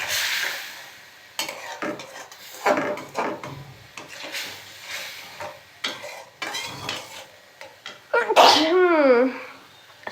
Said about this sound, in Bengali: এখন চিংড়ি মাছগুলো দিয়ে দিচ্ছি, সহ কষাবো কতক্ষণ।